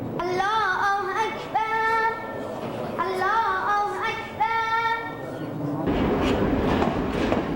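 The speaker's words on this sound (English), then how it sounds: "The train resumes its journey." A passenger train in the Near and Middle East pulls away and runs, with steady rumbling wheel noise, rhythmic clickety-clack over rail joints and bright metallic tonal whines that rise and repeat, loud and close throughout.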